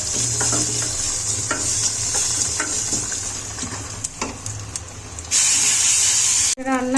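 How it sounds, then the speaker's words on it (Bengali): Panch phoron spices hit hot oil in a pan for a vegetarian cabbage and potato dish, crackling and sizzling with stirring clinks, then a loud hissing fry surges near the end, close up. "যেটা আমি নিরামিষ রান্না করছি তাই পাঁচফোড়ন দিয়ে তেল দেবো।"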